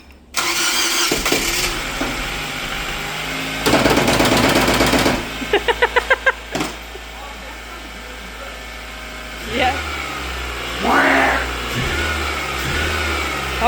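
A 2007 Nissan Versa engine, freshly rebuilt, cranks and catches, then idles and is revved in several sharp bursts with a rapid rattling stutter, settling to a steady idle; a brief spoken word is heard.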